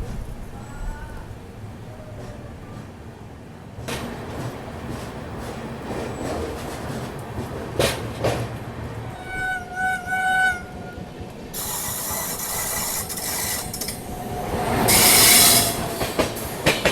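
A superfast passenger train pulls out of Balharshah station, its wheels clattering and squealing on the rails with a rising hiss and rattle, heard close from inside the carriage.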